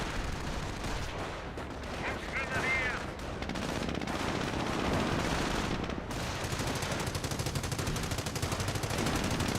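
Rifle fire in Company of Heroes, with a sniper shooting amid a dense battlefield of rapid machine-gun bursts and other gunfire, loud and continuous, with a voice briefly talking over it.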